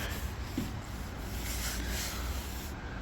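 Parts from a 2004 Ford F-350 Super Duty are sanded during a leaf spring replacement, giving a soft, steady, close rubbing scrape that continues without a break at low volume.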